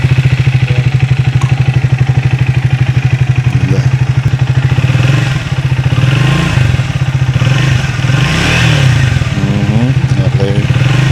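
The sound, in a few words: motorcycle engine revving with stock exhaust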